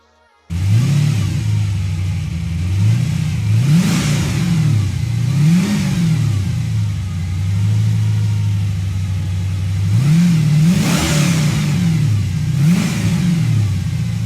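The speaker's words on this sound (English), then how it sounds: "So the car's away" A car engine starts and revs repeatedly, rising and falling in several loud swells over a steady idle, then pulls away close by.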